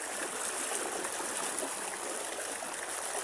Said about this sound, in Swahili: Maji ni marefu kidogo. Ukiwa mtoto wa mama uvuki. Huu ndo mto mkuu.